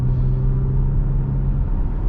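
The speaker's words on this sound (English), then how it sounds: "When you really get on it is when you really get the exhaust notes in this car, especially with this exhaust" A Jeep Grand Cherokee 3.6L V6 fitted with an aFe Power exhaust drones along the road in sport mode, a steady, deep exhaust rumble heard from inside the cabin with no talking.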